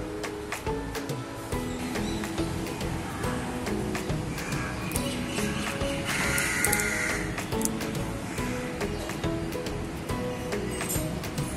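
A kitchen mixer grinder runs loud and steady, a continuous whirring grind that holds the same level throughout.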